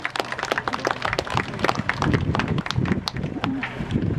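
A small crowd of spectators by the Aurajoki river claps steadily for a diving bell demonstration, a dense patter of hand claps lasting a few seconds, with people talking over it.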